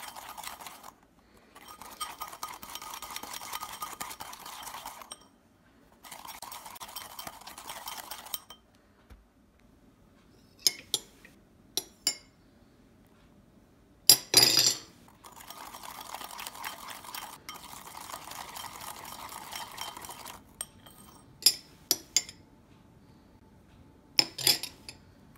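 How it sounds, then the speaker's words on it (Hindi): A spoon beats coffee and sugar in a cup, with bursts of rapid rhythmic scraping and clinking separated by pauses, plus scattered sharp taps of metal on the cup's rim. "कॉफ़ी को मैंने 6 मिनट तक बीट किया है"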